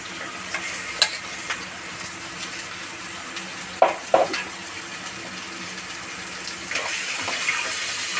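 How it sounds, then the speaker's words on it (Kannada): Ground masala paste for chicken fry cooks in a pan with a soft continuous sizzle, broken by scattered scrapes and clinks as it is stirred, including a louder pair of knocks midway. "ಅದನ್ನು ಹಾಕ್ಬಿಟ್ಟು ಸ್ವಲ್ಪ ಹೊತ್ತು ಫ್ರೈ ಮಾಡಬೇಕು"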